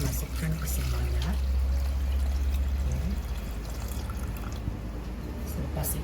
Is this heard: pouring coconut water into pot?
yes